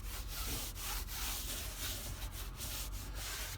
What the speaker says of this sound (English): I'll just rub that in a little bit as well